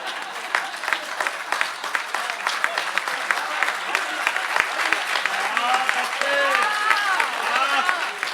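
A live crowd at a Hindi poetry gathering claps in a dense, continuous burst that grows fuller toward the end, with a voice speaking loudly over it near the close.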